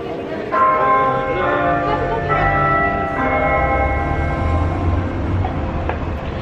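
Church bells ring with sustained, overlapping tones that hold steadily for several seconds over a low, rumbling background.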